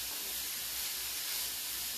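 Steady broadband sizzling hiss as spices are stirred in a hot frying pan, continuous and fairly close with no talking.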